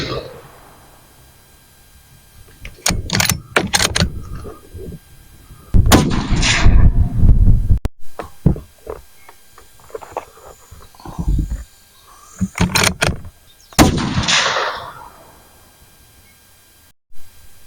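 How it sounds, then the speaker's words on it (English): A 6.5 Creedmoor rifle fitted with a custom Boyd's stock fires several loud, sharp rounds outdoors, each with a rolling echo, separated by pauses with people talking in between. "We're going to shoot a few rounds, and we'll do some accuracy tests on it."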